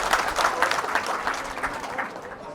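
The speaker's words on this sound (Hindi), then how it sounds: "एक बार जोरदार ताली बजाकर इनका अभिनंदन करें।" A crowd at a BJP party gathering breaks into brisk, continuous applause, many hands clapping loudly and fairly close for a couple of seconds.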